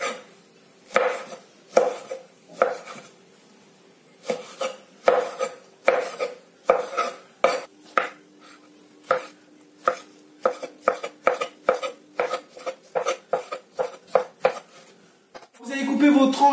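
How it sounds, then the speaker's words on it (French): A knife chops tomatoes into small strips and cubes on a cutting board, giving quick, crisp, evenly spaced chops that speed into a fast run before a brief pause. "Ensuite, vous allez couper des petites bandes et en cubes."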